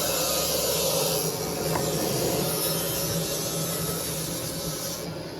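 A small disc sander grinds a slate gorget, giving a continuous hissing, gritty whirr at moderate level that holds steady and fades slightly at the end.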